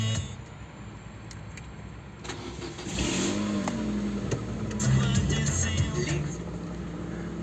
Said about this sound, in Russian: Делаем тестовый запуск перед тем,